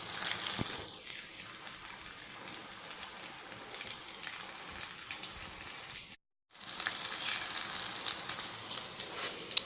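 Potato and egg nargisi kofta kebabs fry in hot oil with a steady, soft sizzle and faint crackle, broken by one brief silence midway.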